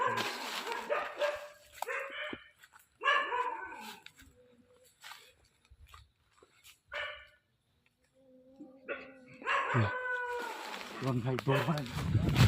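Dogs fighting in a courtyard at night, bursts of barking, yelping and snarling that come and go, mixed with excited human voices talking over them.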